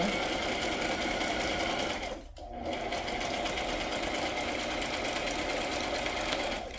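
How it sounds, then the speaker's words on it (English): A budget home sewing machine stitches around the edge of a handmade matchbook notebook, a continuous close mechanical whir and rapid needle chatter that briefly cuts out for a moment before running steadily again. "Again, just sewing all around where I showed you because I like the look of it."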